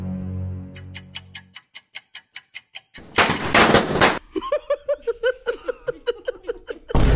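Firecrackers bursting during Diwali celebrations, a rapid string of sharp cracks followed by a dense burst and further scattered pops, loud and close, with a brief stretch of laughter or voices in between.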